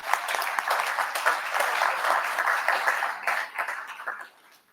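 Audience applause at a public consultation meeting on the future of a landfill, a steady crowd of clapping that holds for several seconds and then fades out near the end.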